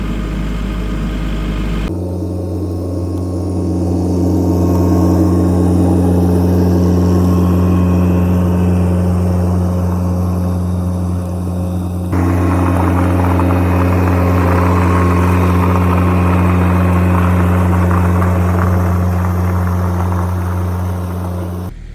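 An ATV engine runs steadily on a muddy farm, with a loud, constant low hum and rumble that holds for the whole stretch and gets slightly rougher partway through.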